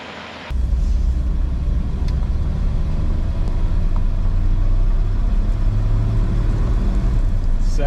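A 1972 Ford F100 pickup with an automatic transmission pulls away after a sudden start, its engine rumbling steadily and close as it accelerates smoothly through the gears.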